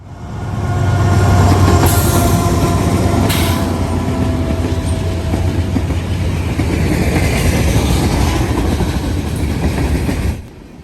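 A long freight train led by a single AC44C6M diesel locomotive rumbles past, close and loud, its steady roar carrying faint clicks and brief metallic squeals from the wheels.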